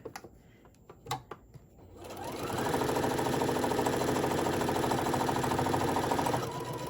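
Sewing machine stitching the arm seam of a handmade teddy bear runs steadily for about four seconds after a few light handling clicks, then slows and stops.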